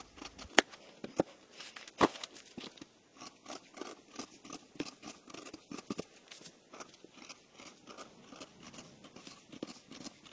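Scissors cutting fabric around pinned pattern pieces for a belt bag, making a quiet, continuous run of crisp snips and crunchy blade closes, close by with no talking.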